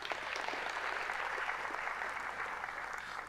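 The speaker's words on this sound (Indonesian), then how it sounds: "Tepuk tangan bagi Tuhan Yesus." A church congregation applauds in a steady, moderately loud wash of many clapping hands, continuing evenly without speech before cutting off at the end.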